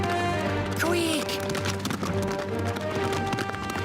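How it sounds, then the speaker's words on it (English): Cartoon horse hooves clip-clop in a quick galloping rhythm, mixed with music and brief exclaimed voices over the top. "My mummy! Riding a horse?"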